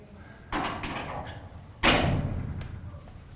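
A door swings shut with a loud thump at close range, preceded by a softer knock and light handling clatter in a quiet room.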